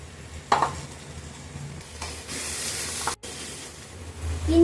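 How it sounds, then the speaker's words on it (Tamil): Spring onions sautéed in a pan for homemade mixed fried rice with mutton, chicken, egg and prawn, a steady close sizzle with hissing surges and occasional clatters of a pan and a stirring utensil. "வெங்காயம் தாள் போட்டுக்கலாம் ஃப்ரெண்ட்ஸ்"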